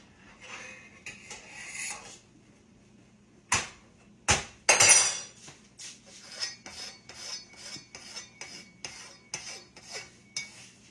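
A knife cuts dumpling dough for peach cobbler, giving a run of close, scraping strokes and sharp taps on a board, irregular at first and then settling into a quicker repeating rhythm.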